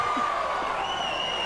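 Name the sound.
crowd cheering at an MMA fight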